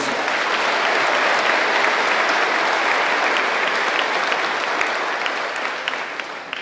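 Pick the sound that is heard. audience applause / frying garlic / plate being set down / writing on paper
audience applause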